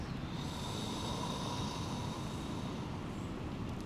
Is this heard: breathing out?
yes